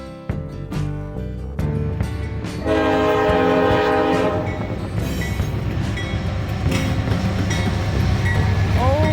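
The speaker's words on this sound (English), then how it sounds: "370 would consist of two C6Ms, one of them having an interesting horn." A loud, sustained horn from a GE C6M freight locomotive blares over the heavy rumble and rattle of a passing train in Georgia, with clanking wheels continuing throughout.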